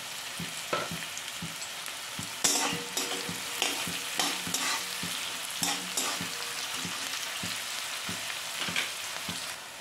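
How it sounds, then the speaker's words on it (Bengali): Onions fry in a pan with a constant crackling sizzle, while a spatula scrapes and taps against the pan in irregular, close strokes, with a few busier bursts of stirring. "পেঁয়াজটা হালকা ভাজা হয়েছে,"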